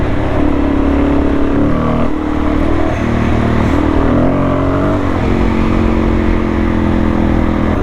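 Motorcycle on an adventure ride along a country road, engine droning loud and steady up close with wind rush and small shifts in revs.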